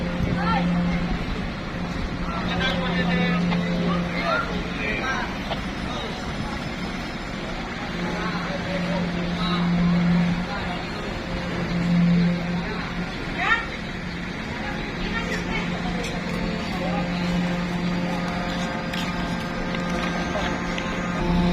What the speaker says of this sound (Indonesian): Kapalnya baru berusaha merapat.